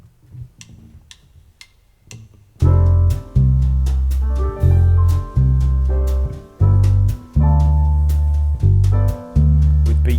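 An electric bass plays a bossa nova line over a backing track with a ticking percussion pulse: a few soft ticks alone, then loud, repeated low plucked notes in a syncopated rhythm with short gaps.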